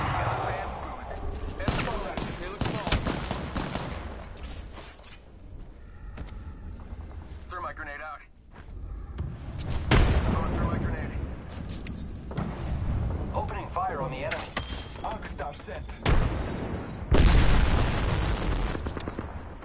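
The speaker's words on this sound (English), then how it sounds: "The enemies are shooting at me." Enemy gunfire in a shooter video game battle: scattered bursts of rapid shots and sharp cracks recur throughout, some close and loud, others more distant, mixed with explosions, game effects and occasional voice callouts.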